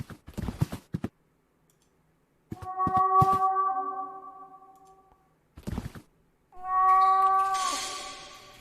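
A cat meows in the adventure game The Last Door, with two drawn-out, tonal meows separated by soft clicking footsteps and short bursts of noise, clear and close with no talking.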